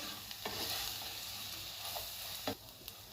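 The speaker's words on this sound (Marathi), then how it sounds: "यामध्ये आता हे वाटण टाकायचं, पूर्ण आता हे मिक्स करून घेऊ" Potato pieces frying in a pan as a ground spice paste is stirred through them, with a steady sizzle and a few sharp scrapes of the spoon against the pan, close and loud.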